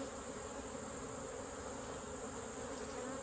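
Honeybees buzzing thickly around a hive in late summer, an even, unbroken hum of many insects at close range with no pauses and no voices.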